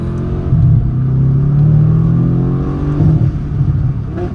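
Tuned Mercedes-AMG GT S engine heard from inside while driving, a loud deep rumble that climbs and falls through several revving pulls over a few seconds.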